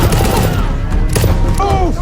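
Gunfire and grenade blasts fill an action movie battle scene, a loud, unbroken barrage of rapid shots and booms that continues throughout the clip.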